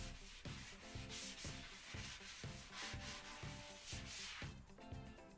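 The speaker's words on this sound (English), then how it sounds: "Then I gave the trim a sanding down just to remove any rough edges." Scrap-wood trim for a workshop storage shelf is sanded by hand in quick, rhythmic back-and-forth strokes, about two per second. The rasping rubs are close and fairly quiet, with no talk.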